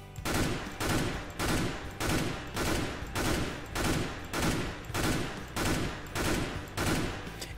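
Rapid rifle bursts from the CS:GO video game, short volleys of gunfire repeating about every half second with brief pauses between, loud and close with no voices.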